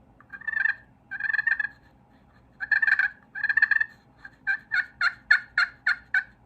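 A hand turkey call mimics the soft tree yelp of a wild turkey: clustered runs of nasal yelping notes in three groups, the last a faster rhythmic string, close and clear with no talk.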